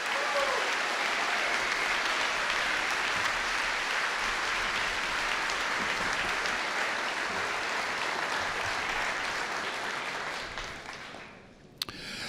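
Sustained applause from a large audience at a horse racing Hall of Fame induction ceremony, a dense, even roar of clapping that holds steady for about ten seconds before fading out near the end.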